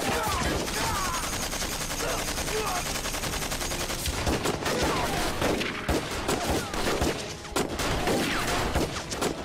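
Bursts of rapid gunfire crackle in a dense, continuous fusillade like machine-gun volleys during a battle charge to break through a gate, loud and close, with sharp individual shots standing out near the end.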